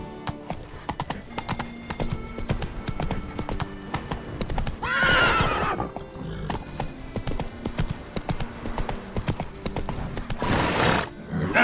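Roach, the horse in the video game Witcher 3, clip-clopping steadily at a walk with two loud neighs cutting in partway through and again near the end, close and prominent over a faint game backdrop.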